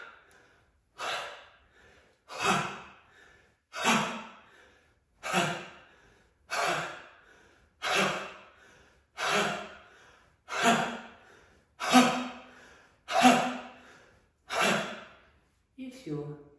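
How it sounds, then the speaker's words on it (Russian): A voice performs a rhythmic series of about eleven forceful "ha" exhalations during a lung-strengthening breathing exercise, each breath a short, close, breathy burst spaced roughly every 1.3 seconds. "Ха – это такой звук, который очистит легкие."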